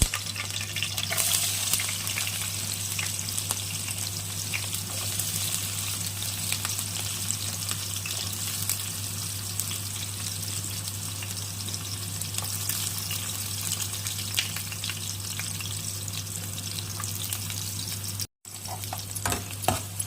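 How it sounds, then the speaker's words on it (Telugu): Green chilies and onions fry in hot oil for a chicken curry, giving a steady, close, loud sizzle with stirring scrapes throughout under a constant low hum, with a momentary cut near the end. "ఆయిల్ పోసుకున్న తర్వాత పచ్చిమిర్చి వేసుకోవాలి తర్వాత ఆనియన్స్"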